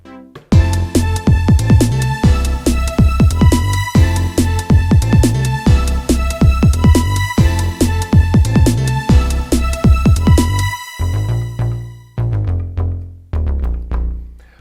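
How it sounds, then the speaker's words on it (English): The analog track of a Roland JD-Xi synthesizer plays a dense, busy sequence of plucky repeating notes over a steady low bass pattern for about eleven seconds, then thins to a few sustained tones fading out, with no talk. "What you hear there is the sound of the analog track."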